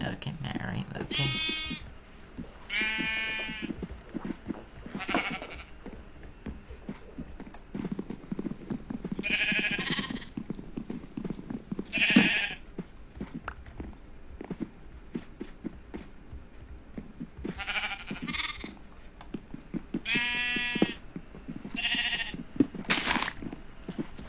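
Sheep in the game Minecraft bleating several times in short, quavering calls spread across the stretch, heard under ongoing talk.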